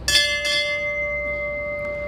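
A single memorial bell at the USS Arizona Memorial Garden at Salt River is struck once, with a second soft stroke, then rings on in a long, steady, clear hum, alone and fairly close.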